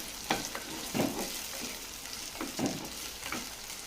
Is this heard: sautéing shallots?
yes